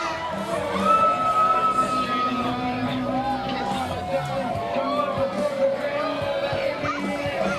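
Wrestling crowd at a Bexleyheath title match, a busy mix of cheering, shouting and chatter, with many children's voices, that carries on steadily under a commentator talking.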